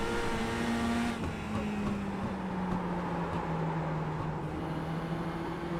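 Mini stock race cars in the iRacing video game drone around Concord, with a steady engine tone that shifts in pitch as the car runs, and other cars humming close by throughout.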